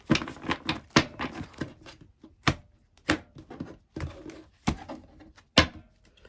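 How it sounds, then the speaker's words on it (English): A series of sharp, uneven taps and soft slaps as tarot cards are shuffled by hand, close up with short pauses between bursts. "Let's shuffle once more and get these clarifiers."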